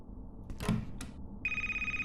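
Telephone ringing in the horror video game Speechless - Genesis Of Fear, a faint electronic ring that starts after a couple of soft thuds and holds as a steady tone at the end.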